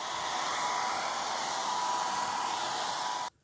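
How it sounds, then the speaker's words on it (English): A hair dryer blows steadily and loudly at close range for a few seconds, then cuts off abruptly. "And use a hairdryer if you really want to speed things along."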